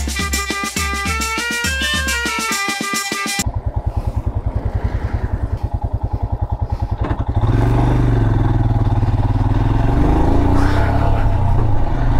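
Amazon delivery vehicle passing along a road in a Nilgiris hill village near Ooty. A loud, close engine drone with rattling swells as it goes by, heard after a burst of music, with no talking.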